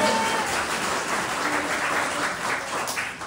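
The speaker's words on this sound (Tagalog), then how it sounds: "Isang malakas nga na palakpak para kay Best Barley." Loud applause at a product launch for Best Barley, a brief burst of crowd clapping that stays strong throughout.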